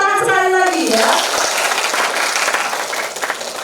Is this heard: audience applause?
yes